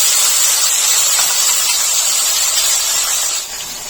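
Garai fish frying in hot oil gives off a steady, loud, hissing sizzle with a bright high edge, constant throughout and easing slightly at the very end.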